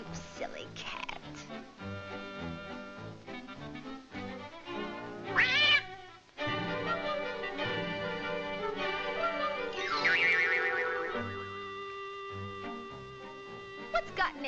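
Cartoon cat meowing and caterwauling in an old animated short, loud exaggerated yowls over orchestral music with a voice speaking between them.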